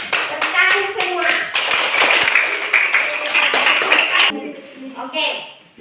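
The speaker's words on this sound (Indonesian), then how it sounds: "Tepuk tangan semua." Children in a classroom clap their hands together in a fast, loud burst of many overlapping claps, with a few voices mixed in before the clapping fades near the end.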